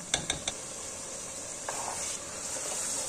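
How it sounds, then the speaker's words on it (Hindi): Cooked qeema matar, minced meat with peas, scraped and scooped out of a hot pan, a steady sizzle with a few sharp utensil clinks at the start and a soft scrape partway through. "अब डिश आउट करती हूँ"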